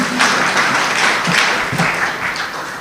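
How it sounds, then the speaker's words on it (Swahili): Audience applause at a citizen legislative conference attended by Azimio leaders, a dense steady clapping that fills the whole moment, fairly loud and without speech. "Tumpigie Bwana Okango makofi mazuri."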